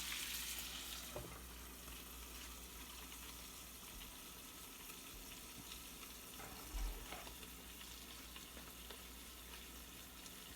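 Lamb chops frying in butter over medium heat, a continuous soft sizzle and crackle throughout, with a faint knock partway through.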